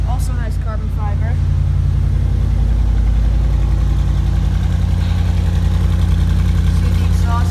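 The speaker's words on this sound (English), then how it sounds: "See, the exhausts are loud." An Audi R8 V8 engine idles with a steady, loud exhaust rumble close by, continuous throughout, with faint background voices early on.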